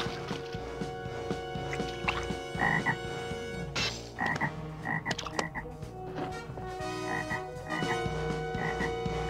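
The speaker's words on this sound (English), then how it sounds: "He's called down a plague of frogs." A plague of frogs in a biblical Moses scene croaks steadily over a musical score, with layered, repeated croaks running throughout.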